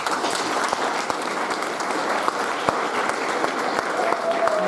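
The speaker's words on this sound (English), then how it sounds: "I would like to give Chrissy a round of applause" Applause from the audience at a women's group presentation, a steady dense patter of many hands clapping throughout, moderately loud and continuous with a few sharper individual claps standing out.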